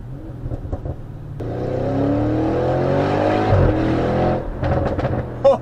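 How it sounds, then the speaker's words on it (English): A 730 bhp Audi RS6 revs hard under acceleration, its exhaust note rising steadily and echoing off a nearby rock face, loud and close with no talking. "When the exhaust system bounces off against the walls, the rock face, sorry, it sounds incredible."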